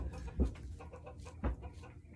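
A broody hen among backyard silkie chickens gives low guttural grunts, two distinct throaty clucks about a second apart, close and fairly soft with no talking.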